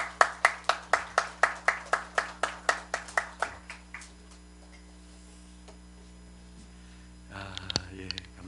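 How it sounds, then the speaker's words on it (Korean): A church congregation claps in unison to welcome the pastor to the Sunday service, about fifteen sharp, evenly spaced claps that stop abruptly, followed by room quiet and a brief burst of voices and movement near the end. "우리 목사님 박수로 한번 모시겠습니다"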